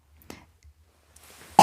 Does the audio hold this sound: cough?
yes